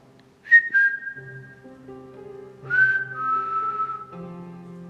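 A person whistles a few sustained, gliding tones in a dark, dome-shaped room on the top floor of an abandoned hospital, two short phrases and then a longer falling one, with no one talking.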